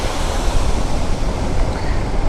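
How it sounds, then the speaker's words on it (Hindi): A monsoon waterfall pours down beside the Tamhini Ghat road in Maharashtra, a dense, loud, continuous roar that fills the whole moment without pause or speech. "क्या ज़बरदस्त पानी गिर रहा है यहाँ पर।"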